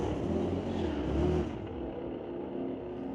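Street-legal drag race cars at Mission Raceway Park roar down the track, a loud sustained engine drone that peaks then fades slightly as the cars pull away into the distance.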